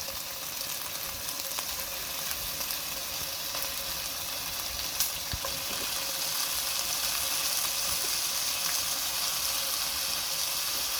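Beef sizzles and fries steadily in a pot with softened onions for an Irish stew, a continuous close crackling hiss with faint scraping, no talking.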